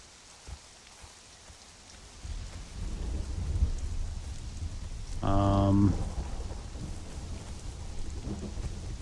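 An in-game thunderstorm in Conan Exiles: steady rain hisses throughout as rumbling thunder swells through the middle, with a brief tonal game sound partway through and no talk.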